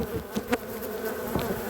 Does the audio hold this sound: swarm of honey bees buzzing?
yes